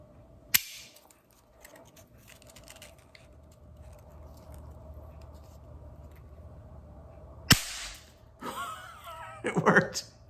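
A buried antique cap gun, seventy years underground, fires a Tootsietoy cap: a single sharp snap, close and loud, with another sharp click later and handling noises and a soft gasp around it.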